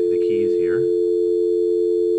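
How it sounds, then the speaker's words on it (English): A loud, steady VoIP softphone dial tone on a computer hums continuously, with a brief voice-like sound over its first second. "if you click on this green pad here, you should hear this dial tone again"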